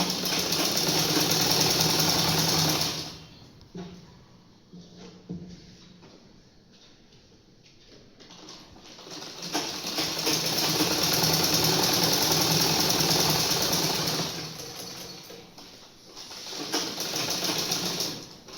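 A sewing machine runs in bursts while stitching fabric during a tailoring class, with a loud whirring run, a quieter pause in the middle, then another sustained run and a final shorter burst.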